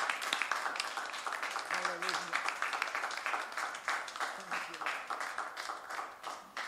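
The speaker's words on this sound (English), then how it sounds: "Give him a big hand clap of praise." A church congregation claps in praise after a prayer, a sustained wash of many hands with sharp individual claps mixed in, while a voice speaks over the clapping.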